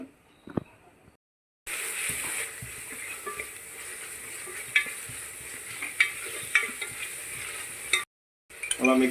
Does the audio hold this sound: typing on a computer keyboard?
no